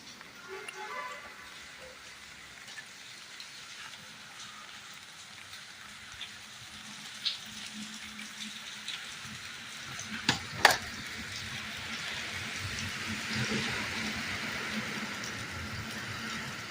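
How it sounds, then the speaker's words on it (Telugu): Moderate rain falls at midnight on a national highway in Pulicherla mandal: a soft, steady wash of hiss with a few sharper taps, fairly faint and distant. "జాతీయ రహదారిపై మోస్తారుపాటు వర్షం కురుస్తున్న దృశ్యాలు గమనించవచ్చు."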